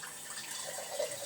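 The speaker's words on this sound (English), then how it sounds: "pour a little bit of water" A little water is poured into a cooking pan while making a tuna pasta bake, a short, soft splashing trickle heard alone and fairly quiet.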